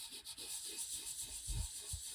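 Yellow pastel is rubbed into paper with circular blending motions, a soft, close, continuous scuffing with gentle rhythmic swells and no talking.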